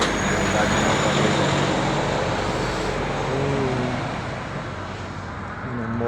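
Traffic on a German motorway with a truck entering: a broad, steady roar of passing vehicles that swells and eases slightly, heard at moderate distance.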